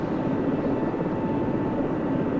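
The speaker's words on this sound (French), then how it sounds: "je vais quasiment lâcher les commandes pour laisser l'hélicoptère monter, passer par-dessus la montagne" A helicopter in the Vietnam Med Evac video game climbs over a mountain, its engine and rotor making a constant loud, dense drone with a steady throbbing texture and no talking.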